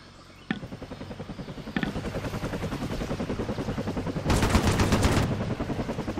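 Helicopter rotor thumping with bursts of rapid machine-gun fire in a Vietnam '65 video game attack on a base, the gunfire growing louder and denser toward the end.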